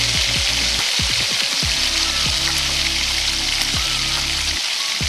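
Plantain pieces fry with curry leaves, salt and chili powder, a loud continuous sizzle with a crackling texture under an ongoing low tonal hum, no talking.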